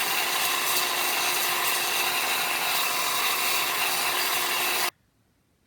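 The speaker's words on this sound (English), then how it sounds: "I took one end and I cut off the flat part." A wooden spike has its flat end cut off with a saw, a loud continuous close-up rasping cut for about five seconds that stops abruptly, followed by a faint tap.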